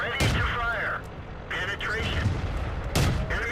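Heavy tank gun shots in World of Tanks on the Kharkov map: two booming reports about three seconds apart over a rumbling engine drone, with someone talking between and over them.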